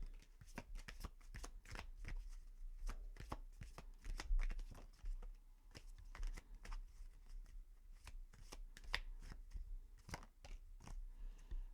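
Tarot cards being shuffled by hand, a long run of quick crisp riffles and soft slaps, close and fairly quiet, with no talking.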